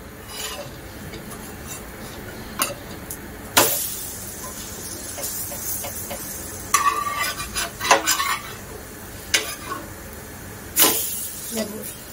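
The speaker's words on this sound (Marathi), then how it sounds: "थोडंसं याला आता परतून घेते." Food is sautéed in a pan on a gas stove with ghee, giving a soft continuous sizzle broken by occasional scraping and clinks of a spatula against the pan.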